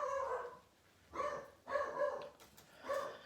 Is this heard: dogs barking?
yes